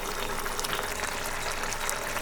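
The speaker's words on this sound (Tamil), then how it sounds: "2 நிமிஷம் கொதிக்கிட்டு" Continuous bubbling and spattering of thick mushroom gravy simmering in a pan, a dense crackly hiss, close and steady with no voices.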